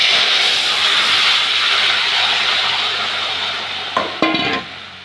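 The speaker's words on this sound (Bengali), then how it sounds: "তাই আমি সর্ষে ফোড়নই দিই" Mustard seeds tempering in hot oil give a loud, even hissing sizzle close by that slowly fades, with a couple of brief clinks near the end.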